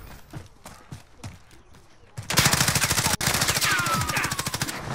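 Call of Duty Warzone gunfire: a few scattered shots at first, then a loud, rapid automatic burst that stops briefly and resumes as a dense, steady rattle, with no voices heard.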